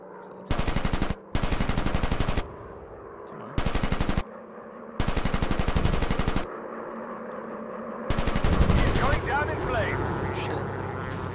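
A World War 1 fighter plane's machine guns firing in a VR game, sounding as loud rapid bursts of varying length separated by gaps, over a steady engine drone.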